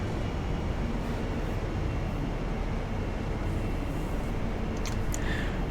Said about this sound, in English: Diesel pulling carriages.